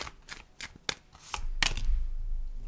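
Tarot cards shuffled from a deck, a rapid series of crisp riffling bursts, then one card drawn with a soft slide, close and clear with no talk.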